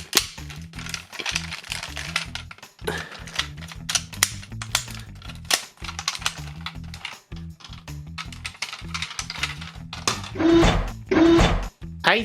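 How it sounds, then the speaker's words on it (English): Plastic parts of a Tobot Titan toy car are folded and snapped into small clips, producing many sharp close clicks and rattles, with a few louder snaps near the end. "fold these in until you hear a loud clicking into these little clips here."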